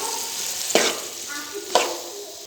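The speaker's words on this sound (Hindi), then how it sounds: "आलू हमने इसमें डाल दिए, अच्छे से इनको भून लेंगे।" Potatoes frying with spices in a pan for aloo bhujia, a steady close sizzle broken by two sharp stirring scrapes about a second apart.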